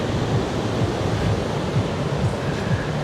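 Strong wind and crashing sea waves at Utorda Beach, Goa, during the monsoon: a loud, steady roar of surf and gusting wind buffeting the microphone, with no talking.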